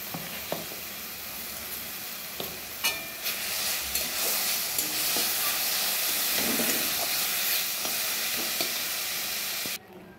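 Pineapple chutney simmering in a pan after sugar is stirred in, a steady close sizzle and hiss with occasional scraping stirs and small taps, continuous throughout and ending abruptly.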